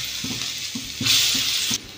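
Pakoras of battered coriander leaves sizzle steadily in hot mustard oil, a close crackling hiss with soft rhythmic stirring thumps roughly every half second.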